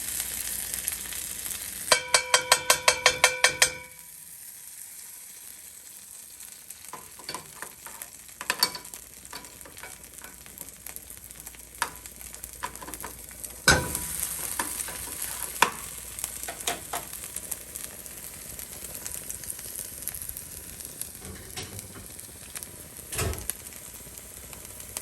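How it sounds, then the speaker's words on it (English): Garlic and ginger frying in a pan after an opening burst of rapid clatter, settling into a steady low sizzle with scattered sharp clicks and pops, fairly faint and close, no talking. "The garlic and ginger will cook really quick."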